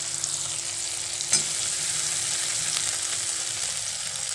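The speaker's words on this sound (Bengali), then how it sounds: "টমেটোগুলো ভাজা ভাজা হয়ে গেছে, এবার আমি বেটে রাখা মশলাটা এতে দিয়ে দেব।" Tomatoes fry with a ground spice paste in a pan for a Bengali ghugni, giving a steady close sizzle with a brief stirring clatter and no talk.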